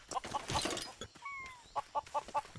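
Chickens clucking in the LEGO Worlds video game, a quick run of short, close clucks at the start and again near the end, with a brief whistling tone between them and no talk.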